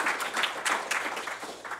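An audience at a prize giving claps in a short, steady round of applause, close and fairly loud.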